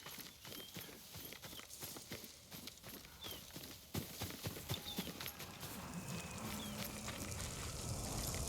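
Horse hooves clip-clop steadily in a Ghost of Tsushima game scene, a faint, fairly close walking rhythm of repeated hoof strikes over quiet ambience, with no voices.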